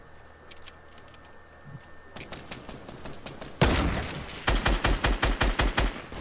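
Gunfire in a Fortnite battle royale match: scattered distant shots give way to a loud blast and then a rapid, evenly spaced burst of close shots.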